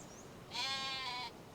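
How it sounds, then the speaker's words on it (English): A single drawn-out sheep bleat from the farm game Farm Restorer, steady and close, rising clearly over quiet background for just under a second. "You also seem to be a sheep."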